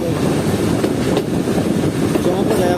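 A passenger train, the Jand Passenger, rolls into Dumel railway station with a steady, continuous rumble of wheels and carriages throughout.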